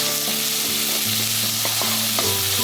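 Garlic and a small capsicum fry for garlic rice with a loud, close sizzle, broken by a few scraping stirs of a utensil against the pan.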